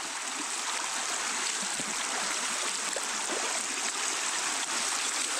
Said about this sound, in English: got another creek crossing right off the bat